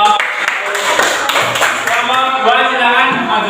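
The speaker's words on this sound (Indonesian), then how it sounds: "Kita beri tepuk tangan untuk kelompok" Primary school classroom clapping for a group of fourth-grade pupils, a loose burst of hand claps mixed with children's voices and chatter, close and lively.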